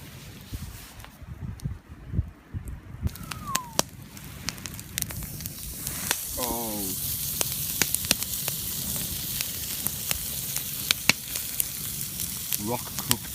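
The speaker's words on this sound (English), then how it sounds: "I think it's time for a steak, and I'm going to cook it on that rock there" A sirloin steak sizzles on a hot rock at a winter hammock campsite. After some quiet, crackling rises into a steady hiss with scattered pops and brief vocal sounds.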